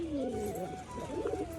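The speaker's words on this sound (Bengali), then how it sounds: "আর বিস্কুটের ডাক দেখুন" A biscuit-coloured Lakka fantail pigeon kept with other pigeons coos in a steady, rolling call, close and clear over a faint background hum.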